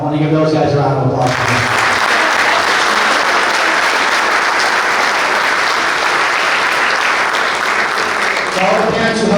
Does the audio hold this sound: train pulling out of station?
no